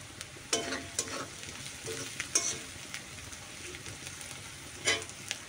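Onion and garlic fry in oil with a steady, close sizzle, broken by a few sharp scrapes and clinks of a spoon stirring the pan, with no one talking.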